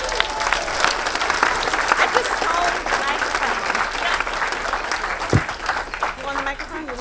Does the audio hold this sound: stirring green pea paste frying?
no